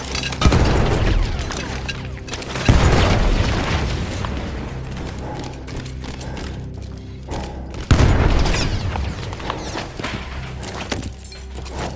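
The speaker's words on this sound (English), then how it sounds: "That explosion was one of the sweetest" A field gun is blown up in the video game Battlefield 1, setting off several loud, booming explosions spaced a few seconds apart, each trailing into rumbling debris and mechanical clatter.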